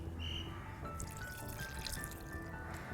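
Coconut milk is poured into date juice, giving a soft, close, steady pouring trickle that runs quietly for a few seconds.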